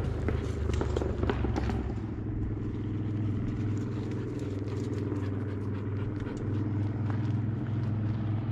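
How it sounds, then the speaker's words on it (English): A motorcycle arrives, a steady low engine rumble close by throughout, with a few faint clicks and patters early on and no talk. "They've never seen a motorcycle here in a while."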